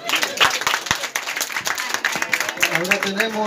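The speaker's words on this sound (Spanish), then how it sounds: "Ahí está, fuerte el aplauso" An audience at a comedy dance show claps in scattered bursts while someone talks over the clapping and music-like tones sound underneath.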